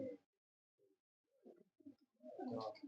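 A champion breeding pigeon coos softly in short, low, throaty bursts, close by, with a louder rustle of activity at the end.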